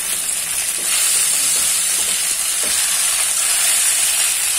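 Pieces of food frying in a pan, a loud, steady, continuous sizzle and hiss held close up throughout, with no voices.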